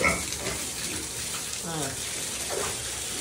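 Water running steadily into a small swimming pool outdoors in hot weather: a constant close hiss and splash, with a voice speaking over it and some animal grunts in the background.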